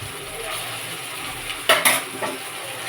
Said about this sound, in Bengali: এখন পেস্ট করে রেখেছি আদা রসুন পেঁয়াজ টমেটো পেস্ট দিয়ে দিচ্ছি 2 চামচ।